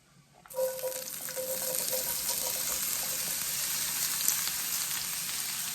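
Squash pieces hit hot olive oil in a cast iron pan and burst into a sudden sizzle, then settle into a steady, bright frying hiss with light spattering, and no one talks.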